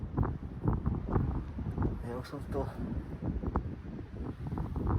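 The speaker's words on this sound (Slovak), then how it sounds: "ale ten vietor normálne reže jak žiletka" Strong, cold wind buffets the microphone outdoors, a heavy, continuous rumbling gust noise that largely masks someone speaking briefly close by.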